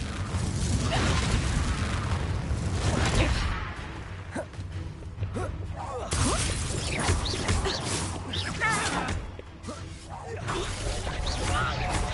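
A Confringo fire spell blasts in a Hogwarts-style wizarding video game, with a loud burst of crashing, booming impact followed by a chaotic jumble of smashing debris and whooshing effects over a dense, busy backdrop.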